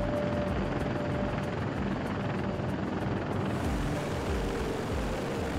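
CH-53 military transport helicopter, a continuous loud rotor and turbine roar with a rapid rhythmic blade chop throughout, steady and close with no other sounds.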